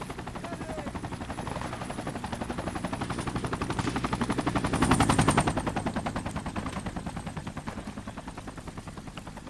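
Sustained enemy gunfire in the Project Reality military shooter during a downtown urban squad raid, a steady rapid automatic rattle throughout with a louder burst midway, alongside a constant high whine.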